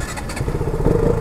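A KTM RC200 or Bajaj NS200 sport motorcycle cranks and catches on a street, settling into a close, rough, steady idle.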